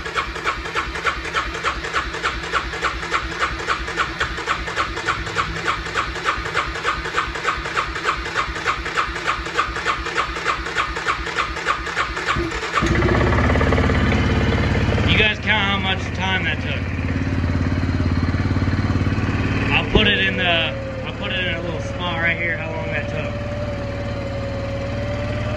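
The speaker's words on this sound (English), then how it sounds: "Cold start. Okay, we'll do the Suzuki first. Fuel injected. Has choke." Cold start of a fuel-injected Suzuki KingQuad 400 ATV with the choke on, a steady rapid starter-like chugging that catches into a loud, droning idle, with people talking over it.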